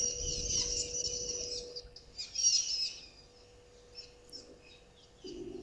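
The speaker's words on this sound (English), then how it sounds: "That was a strange bird call." An odd, high-pitched bird call sounds twice, fairly faint, over a quiet outdoor background with a steady low hum.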